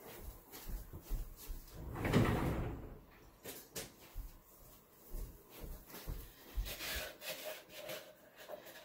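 A spatula scrapes goat milk soap mixture made with sea moss, kelp and seaweed extract from the bottom of a container, irregular rubbing and scraping strokes with occasional knocks, close and fairly quiet.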